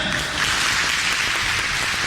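Applause from the crowd at an IWC wrestling event, a steady, dense wash of clapping that holds evenly throughout without a clear break.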